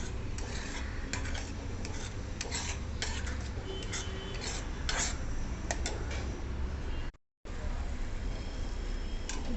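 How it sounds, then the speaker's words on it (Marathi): Ground spice paste fries in hot oil in a pan as it is stirred, making a continuous close sizzle broken by scraping and metallic clinks of a spoon, with a brief dropout near the end. "तेलामध्ये आता आपण हे वाटण छान परतवून घेऊ."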